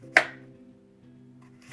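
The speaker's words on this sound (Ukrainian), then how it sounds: "І теж ось такими кружечками невеличкими нарізаю" Two sharp knife chops land on a cutting board about a second and a half apart, slicing vegetables into small rounds, with a faint hum between them.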